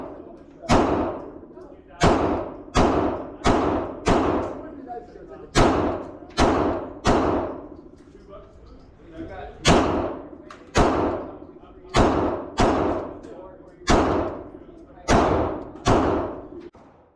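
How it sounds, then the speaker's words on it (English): A Glock G45 pistol fitted with a Triggershark trigger fires about fifteen shots at an even pace, each a sharp loud crack with a short decaying tail, spaced roughly a second apart with a brief pause midway. "This will be my first time shooting the G45, the G47, and the G34."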